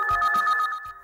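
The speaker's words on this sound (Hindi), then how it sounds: "फोन उठाना जरा।" A telephone ringing nearby in a home, a bright electronic ringtone with a steady pulsing warble, loud and clear and alone.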